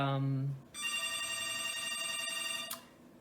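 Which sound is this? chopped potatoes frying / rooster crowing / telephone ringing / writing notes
telephone ringing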